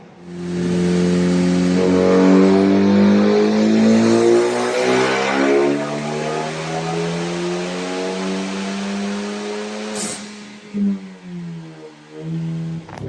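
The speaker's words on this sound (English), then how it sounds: "So Falcon's car just made it on the dyno." A car engine revs hard on a dynamometer, a loud, close, rising drone that holds for several seconds, then drops back and fluctuates as the throttle eases off.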